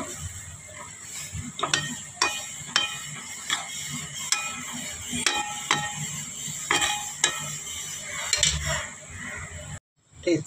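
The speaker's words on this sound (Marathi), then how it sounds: "हे सगळं टाकायचं आणि छान परतून घ्यायचं" Thecha chili paste with green chilies being stirred and sautéed in a pan, a steady low sizzle under repeated clinks and scrapes of a spoon against the metal, fairly close, ending in a brief near-silence.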